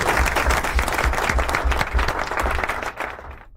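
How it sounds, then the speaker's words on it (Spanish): Studio applause welcoming a Catholic priest guest on a night radio show in Argentina, brisk continuous clapping from a small group with some low thumps underneath, stopping abruptly at the end. "vamos a recibir con un fuerte aplauso a don Alessandro Minutela"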